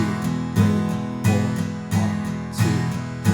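Acoustic guitar strums the final chorus of a song in a steady repeating pattern of accented downstrokes, close and full with no voices.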